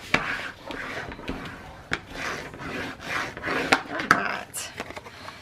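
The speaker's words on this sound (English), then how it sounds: "So now I am going to burnish that and reinforce that once again to get that tie-back working the way I want it" A tool rubs and rasps over tape on an accordion book binding in short, repeated scraping strokes with small sharp clicks between them, close and fairly loud, no talk.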